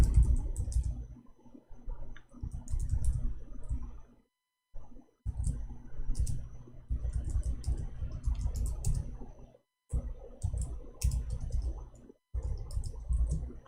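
Typing on a computer keyboard with a faulty, unresponsive keyboard: bursts of close, clattering key clicks in uneven runs, broken by brief pauses, with no talking.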